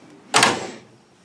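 Drawer on a Harbor Freight tool cart sliding shut, a single sharp metallic rattle and thud that quickly fades, close and fairly loud with no talking.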